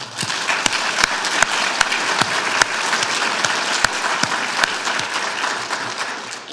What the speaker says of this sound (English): Let us give a round of applause to honoree Jennifer Borrowman